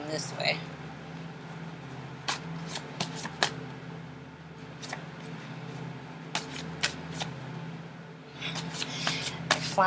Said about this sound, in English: I'm going to shuffle them this way.